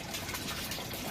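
Water starting to siphon out of a bucket in a windy greenhouse: a steady, broad rushing trickle that holds evenly throughout, with no talking.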